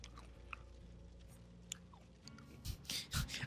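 Potato chips crunched close to the mic during a Dead by Daylight gaming session, quiet at first, then a cluster of louder crisp bites near the end, with no talking.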